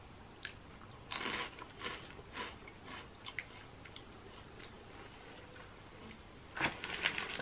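Crunchy bacon-flavoured French snack sticks being bitten and chewed close up, with a steady series of quiet crunches and a sharper burst of crunching toward the end.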